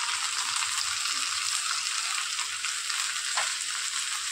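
Tomato puree sizzling steadily in a hot pan for a prawn cashew curry, a constant close frying hiss with faint stirring, no talk.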